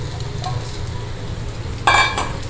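Fried cauliflower rice with cooked rice being stirred in a pan over low heat, a steady sizzle and soft scraping throughout, with a louder burst of stirring and frying near the end.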